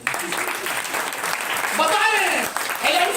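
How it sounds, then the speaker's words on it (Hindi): Audience applause at a talk about LIC insurance agency work: a dense, steady clatter of many hands clapping throughout, with a voice speaking over it. "ताली बजा दीजिए।"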